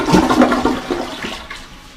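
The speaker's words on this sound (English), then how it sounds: "We'll give this a trial flush." A newly installed Kohler toilet flushes once during a test, a loud close rush of water that swells quickly and then tapers into a quieter draining swirl.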